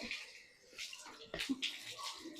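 A pet being bathed with water: faint, intermittent splashes and sloshing, with a few sharper splashes near the end.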